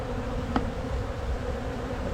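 Honey bees hum in a steady low drone while a colony is opened for inspection, the buzzing continuous and close with no voices over it.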